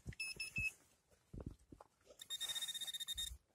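A metal detector pinpointer emits electronic beeping tones that grow into a rapid, insistent pulsing signal, interspersed with short clicks and handling knocks.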